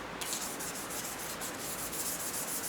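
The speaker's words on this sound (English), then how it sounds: "very gently, slowly, rub-a-dub-a-dub" Fine 1000 grit wet/dry sandpaper, used dry, gently and slowly rubs old varnish and grime off a Singer 500 sewing machine, making a steady, even, close abrasive hiss with no talk.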